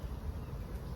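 Honeybees buzzing around an open hive during a first-time beekeeping inspection, a steady close droning hum filling the whole second with no talk.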